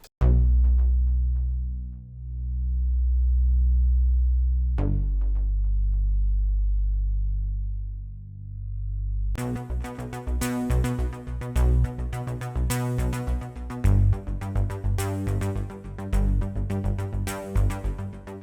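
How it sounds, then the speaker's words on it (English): Deep synthesizer bass notes from a Hive 2 synth sustain and pulse, starting alone and then joined by a busier, rhythmic layer of synth sound; no voices. "This is what I use for the bass of this track."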